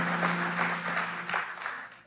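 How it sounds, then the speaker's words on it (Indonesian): A church congregation at a Sunday morning service applauds together, a dense continuous clapping that stays steady for a couple of seconds with no voices over it. "Yang mau beri tepuk tangan yuk buat Tuhan kita Yesus Kristus."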